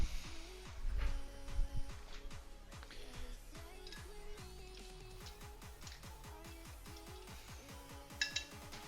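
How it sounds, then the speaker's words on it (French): Dishes and cutlery clink and knock together as they are loaded into a dishwasher in a home kitchen, with scattered close light clatters and a couple of louder thumps early on. "La vaisselle dans le lave-vaisselle, ce qui est bien pratique."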